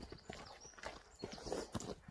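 A horse walks down a road toward a school, its hooves clip-clopping in a steady, fairly close rhythm of distinct strikes, with no talk over them.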